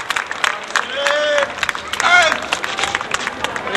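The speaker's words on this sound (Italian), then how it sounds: "per questo li salutiamo con un bel applauso forte" A crowd at a 2008 historical groups parade in Tolentino claps for veterans, scattered applause with a hubbub of voices and some whistling tones, moderately loud and close.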